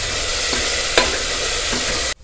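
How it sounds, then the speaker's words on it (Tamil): Ginger garlic paste sizzles loudly in hot oil close up while making tomato rice, with a few light stirring scrapes, then the sound cuts off abruptly. "இஞ்சி பூண்டு பேஸ்ட் வந்து நல்லா வதங்கணும்"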